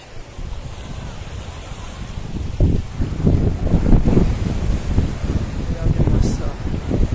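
Sea waves surge against rocks on a Thai beach. Heavy low washes build and break in uneven bursts, close and loud, with wind buffeting the microphone throughout.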